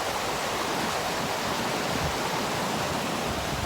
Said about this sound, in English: but there's this beautiful water right here